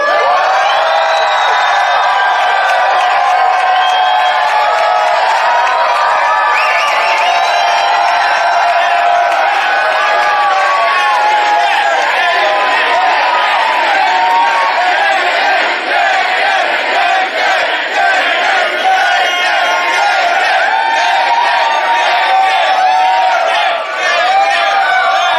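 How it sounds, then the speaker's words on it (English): A rally crowd in Iowa City cheers, whoops and shouts loudly and steadily for about twenty-five seconds, a dense wall of many voices with no break. "You guys can cheer. Make some noise."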